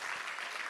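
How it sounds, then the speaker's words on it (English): A conference audience at an ENS community event in Bangkok gives a brief, dense burst of applause, steady and moderately loud throughout, with no talking over it. "let's give Fuel a much-deserved round of applause"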